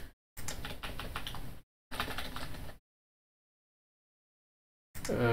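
Someone types on a computer keyboard in two short bursts of rapid, close clicking, then silence, then a brief final burst.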